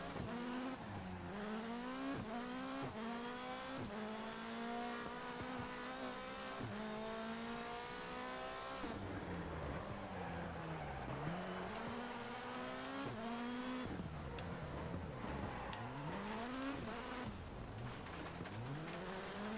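Rally car from the Dirt Rally 2.0 game, its engine droning steadily with rising and falling revs through gear changes and corners, tires faintly scrubbing underneath, continuous and fairly loud throughout.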